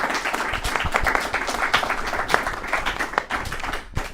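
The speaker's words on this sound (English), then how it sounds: "I want to give our speakers a huge round of applause" A debate audience applauds the speakers, dense steady clapping from a large crowd in a hall that holds for about four seconds and then begins to thin.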